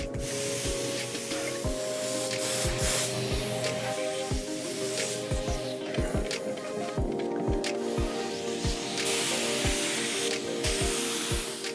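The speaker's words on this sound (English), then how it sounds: "we're going to use a ground coat of a dark grey over the top of the primer" A spray gun lays a dark grey ground coat over primer on a rough classic car during restoration, giving a steady, loud hiss throughout, with a repeated low thumping and a mechanical hum underneath.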